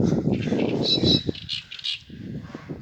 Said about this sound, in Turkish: Şurada bir kuş ötüyor.